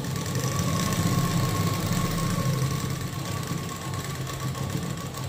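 A sewing machine stitches a prince cut blouse, its steady mechanical whir running continuously and fairly loud, with a constant hum beneath and no talking.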